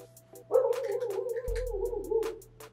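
A human voice imitates a dog barking, a sustained, wavering howl-like bark close to the microphone, with a deep low thump partway through and faint clicks around it.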